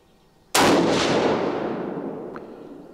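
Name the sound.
rifle gunshot, .22-250 Model 70 Winchester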